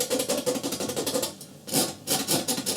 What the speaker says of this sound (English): using the knife, I'm going to scrape in a few little,